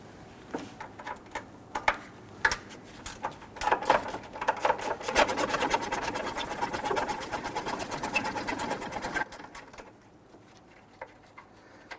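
A wrench ratchets and clicks as 12mm bolts are loosened and removed under a 2006-2012 Toyota RAV4 3.5L V6, quick metallic ticking bursts in an uneven rhythm over a faint background hum, no speech.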